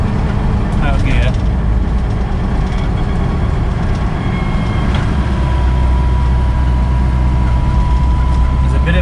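Land Rover Defender cruising at just under 90 with the clutch in and out of gear, a loud steady road and drivetrain drone with a faint whine, someone talking over it.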